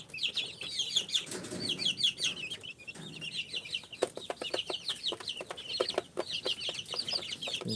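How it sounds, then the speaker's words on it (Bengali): Native chicken chicks in a brooder on a farm, a dense chorus of shrill rapid cheeps from many chicks close by, with scattered taps and rustling among them. "এইভাবে বোর্ডিং করা হচ্ছে দেশি মুরগির বাচ্চাগুলা"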